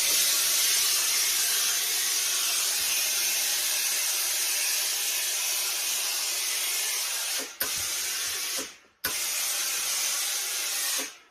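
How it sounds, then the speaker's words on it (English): A steamer hisses a strong, steady jet of steam onto a felt Akubra Adventurer fedora being reshaped, a bright continuous spray that cuts off briefly twice near the end before resuming. "let's introduce a bit of steam and see what happens"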